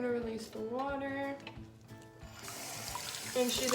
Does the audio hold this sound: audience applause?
no